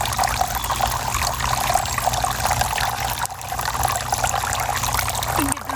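Water trickles steadily through a garden water feature, a continuous close splashing stream with a brief dip near the end and no talk.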